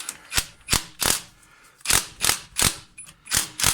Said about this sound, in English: We're going to ratchet him up from up here.